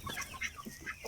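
Hens clucking for food in a backyard flock, several short, bright clucks and calls overlapping in quick irregular bursts, close by, with a faint rooster-like call mixed in.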